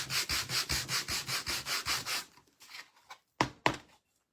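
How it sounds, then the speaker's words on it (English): Sandpaper rubs rhythmically back and forth on a wooden decor piece shaped like a chunky Uncle Sam hat in about a dozen quick strokes, then a few scattered scrapes and two sharp knocks. "All right, so let's give it a good sanding."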